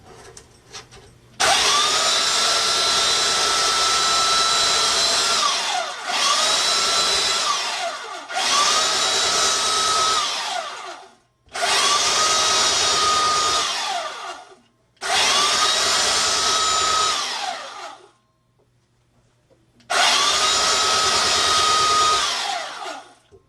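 A belt grinder sharpens an axe head in loud, whining bursts of several seconds each, separated by short pauses as the blade is lifted away and brought back to the belt.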